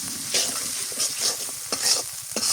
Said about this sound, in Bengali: মশলাটা ভালো করে কষাই নিই।